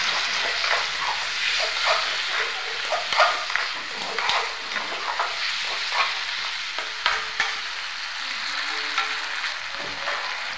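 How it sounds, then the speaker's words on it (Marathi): Potato pieces fry with spices in hot oil, a steady close sizzle broken by scraping stirs and clatters from the pan throughout. "आलूच्या फोडी तेलामध्ये व्यवस्थित भाजून घ्यायच्या।"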